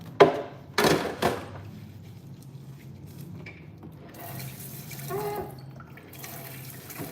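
Tap water runs into a kitchen sink, starting after a few sharp clunks and knocks and continuing as a low steady flow, with a louder burst of splashing near the end.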